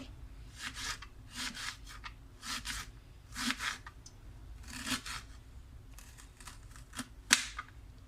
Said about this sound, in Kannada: ಅನಿಯನ್ಸ್ ಎರಡು ಭಾಗ ಮಾಡ್ಕೊಳ್ತಾ ಇದ್ದೀನಿ ನೋಡಿ ಈ ಒಂದು ಭಾಗದಲ್ಲಿ ಉದ್ದಕ್ಕಾಗಿ ನಾನು ಕಟ್ ಮಾಡ್ಕೊಳ್ತೀನಿ